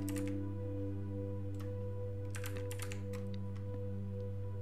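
Clicks of keys as someone types a password on a computer keyboard, a few scattered short bursts of tapping over a steady electrical hum.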